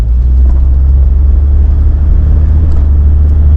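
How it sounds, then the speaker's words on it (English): Steady, loud low rumble of a car's engine and tyres heard from inside the cabin while driving along a road, constant and unbroken with no talk. "We're in the car, going to drive out for approximately an hour"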